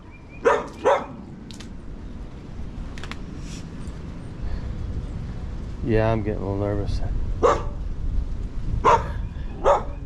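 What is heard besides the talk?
dog barking behind a fence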